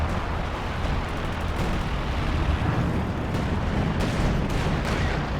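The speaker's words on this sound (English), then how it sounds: "I think I'm calling artillery down on this thing." Artillery strike in Company of Heroes 2: a dense, continuous rumble of heavy explosions and booming impacts, loud and close, with scattered sharper bursts layered over the roar.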